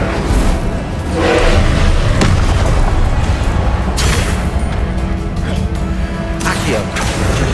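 In the video game Hogwarts Legacy, the Incendio fire spell is cast amid heavy booming blasts and crashing impacts, dense and loud, with bursts of whooshing flame and a voice underneath.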